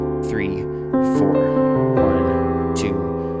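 A piano plays a worship chord progression in a steady rhythmic pattern, sustained chords changing about once a second, loud and close, with a voice speaking faintly over the playing.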